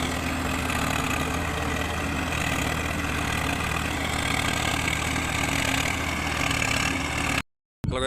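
A Swaraj 855 FE tractor engine runs steadily at idle in a field, a constant loud low diesel rumble with no talk, cutting off abruptly near the end.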